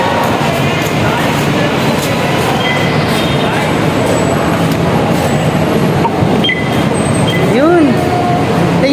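Riding a Manila MRT train: a loud, continuous rumble and hiss of the carriage in motion fills the whole stretch, with a brief rising whine near the end and passengers talking underneath.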